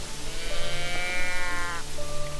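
A person imitates a red deer hind's call with a single drawn-out, rising-then-falling nasal bleat lasting about a second and a half, fairly close, over a soft outdoor background.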